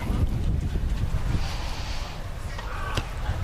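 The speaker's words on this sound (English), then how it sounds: "today it's a little gusty" Gusty wind buffeting an outdoor tennis court, a loud, steady low roar of wind noise on the microphone that swells and eases, with no clear voices above it.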